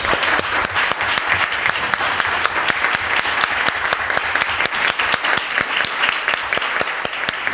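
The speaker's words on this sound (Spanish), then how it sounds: "un aplauso a nuestros invitados y invitadas" Sustained applause for guests at the close of a cultural work and sustainability event, dense steady clapping from a sizable crowd throughout, fairly loud and close.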